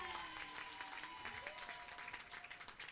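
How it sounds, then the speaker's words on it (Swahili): A church congregation claps together during a Sunday morning service, a dense, continuous patter of many hands at moderate distance with a faint voice underneath. "Hebu chapa makofi, ni ukweli mtupu."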